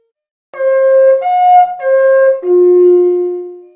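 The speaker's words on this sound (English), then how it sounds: "they also found conch shell horn, and it sounds like this." A conch shell horn blown in three steady tones, the middle one slightly higher, ending on a lower sustained note that fades out.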